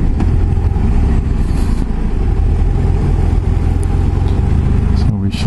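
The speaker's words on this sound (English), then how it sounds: "Dublin city traffic." Dublin city traffic on a wet day, a loud continuous wash of car and engine noise with idling and revving motors close by, steady throughout.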